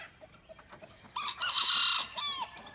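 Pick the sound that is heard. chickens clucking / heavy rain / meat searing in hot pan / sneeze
chickens clucking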